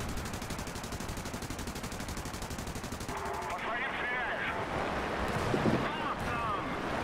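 Aircraft guns in War Thunder fire in a rapid, continuous burst that then stops, followed by quieter rumbling and distant bursts. A voice talks briefly near the end.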